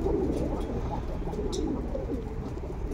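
Armenian Oktemberyan marble-necked pigeons coo softly in a loft, a few low murmuring calls repeating close by over a faint background hum, with no voices.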